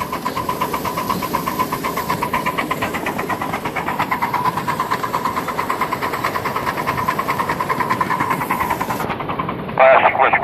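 A Little Engines ALCO Northern miniature locomotive in Lackawanna livery pulls a Christmas train out on a small railroad, a steady rhythmic chuffing engine sound running throughout at close range, with a brief louder burst near the end.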